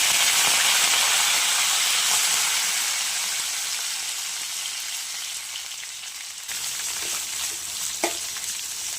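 Cumin and mustard seeds hiss and crackle in hot oil for a brinjal curry, a loud, steady close-up sizzle with a few sharper pops toward the end.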